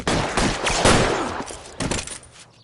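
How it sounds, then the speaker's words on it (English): Gunfire from a shootout at a café in LA Noire, a dense burst of shots with sharp repeated cracks through most of the stretch before tapering off, loud and close with no talk over it. "officer needs help. 211 and shots fired"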